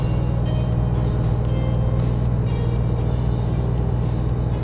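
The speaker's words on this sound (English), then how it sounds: "Trucks and cars." Truck and car traffic in Euro Truck Simulator 2 on open flatlands: a constant loud low rumble of engines and road noise, steady with no clear pauses and no talk.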